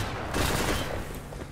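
A grenade blast and rapid gunfire in the video game STALKER make a dense, loud burst of explosive noise that lasts the whole short moment.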